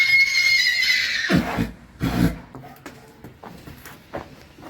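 A Kathiawari horse lets out a loud whinny over the first second or so, followed by snorts and scuffling sounds nearby, with no talking.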